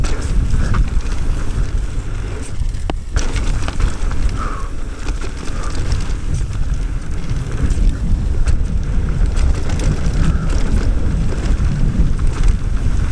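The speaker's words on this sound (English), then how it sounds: "the wind was so strong" Strong wind buffets the microphone during a mountain bike ride on San Clemente trails, a loud, continuous low roar with gusty swells that lasts throughout, with no talking.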